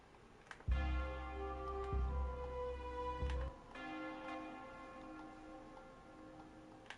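Cathedral bell built in the Dreams video game on PS4/PS5 rings out in a single loud, resonant strike with long harmonic ringing, followed by a second softer strike that decays slowly into a sustained hum.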